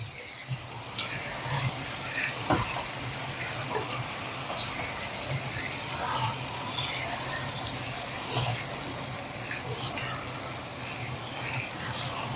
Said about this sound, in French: On remue.